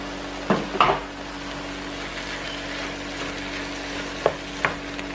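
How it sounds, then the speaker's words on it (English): Canned callaloo going into a pot for a Dominican-style shrimp dish, giving a soft continuous sizzle with a few sharp wet thuds and clinks as it is added and stirred, close and moderate in level. "I'm gonna add the callaloo that was in the can."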